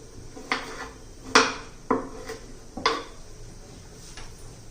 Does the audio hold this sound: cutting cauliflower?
yes